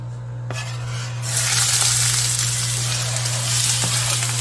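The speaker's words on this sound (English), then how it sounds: "So I'm going to put this in the skillet really quick with some olive oil" Onions sizzling in olive oil in a skillet, a steady, loud, close frying hiss that swells after a brief quieter start and carries on evenly under a low hum, with no talking.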